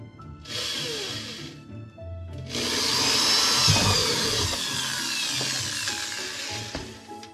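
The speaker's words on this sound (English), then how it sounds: "So I'm gonna drill my first hole" An electric drill whirs in a short burst, pauses, then runs steadily for several seconds as it bores a hole in a whole-house water filter housing, close by.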